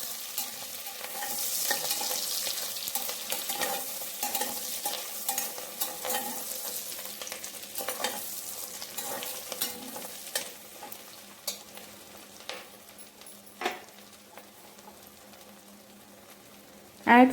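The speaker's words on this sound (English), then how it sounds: "Add 2 sliced onions and few green chilies and fry them until onions turn to translucent." Sliced onions and green chilies fry in a pan with a steady sizzle, broken by stirring scrapes and clatter that grow sparser toward the end. The frying sounds close and moderately loud, with no talking.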